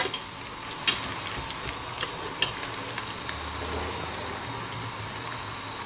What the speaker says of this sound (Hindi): ये इस वक्त प्याज हमारा ब्राउन हो रहा है, फ्राई कर रही हूँ मैं